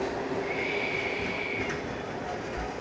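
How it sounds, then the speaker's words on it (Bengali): A local train pulls out of Khidirpur station in Kolkata with a steady, loud rolling rumble and a long, thin wheel squeal rising over it, heard from on board. "ট্রেন ছেড়ে দিল।"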